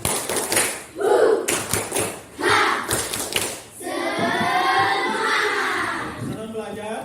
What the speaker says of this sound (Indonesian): Ya, tepuk semangat.